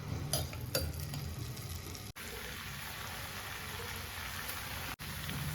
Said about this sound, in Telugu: అందులో కొంచెం పసుపు వేసుకొని ఉల్లిపాయలు బాగా వేగనివ్వాలి